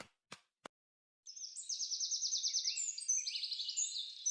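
Cartoon bird in a Filipino animated comedy chirping in a quick repeated run of high trills, after two short sharp clicks and a pause; clear and alone with no talk.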